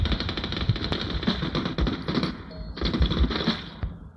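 Rapid gunfire in the mobile shooter Standoff 2, bursts of sharp crackling automatic shots in quick succession, close and loud, with a brief pause midway before another burst.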